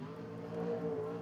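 A winged sprint car on the Cromwell speedway during time trials, its engine droning steadily and fairly loud, rising slightly in pitch midway through as it runs a lap.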